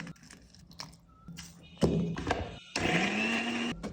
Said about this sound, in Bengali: মশলা ব্লেন্ডারে দিয়ে মাখিয়ে নিয়ে